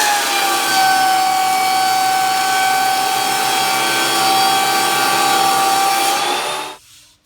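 A Shop Fox W1877 jointer runs with its cutter head locked, giving a loud, steady high-pitched whine with a constant drone that cuts off abruptly at the end.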